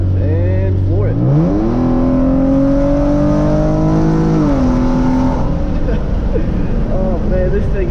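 A Hyundai Genesis Coupe with an aftermarket exhaust floors it from about 55 mph, its loud engine note climbing in a rising, raspy roar, easing briefly as it shifts, then pulling hard again.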